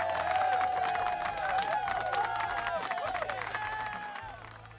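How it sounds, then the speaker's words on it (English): Applause sound effect on a hockey league livestream, a dense burst of crowd clapping and cheering that holds steady and then tapers off at the end. "You're going to get some claps."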